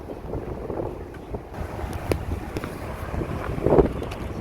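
A boat engine chugs under wind noise and rushing water, steady and fairly close, with no voices.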